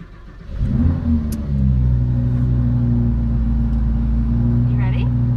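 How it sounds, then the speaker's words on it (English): An engine turns over and catches, then settles into a loud, close rumbling idle with a rising rev, while people talk over it. "Turn the vehicle on"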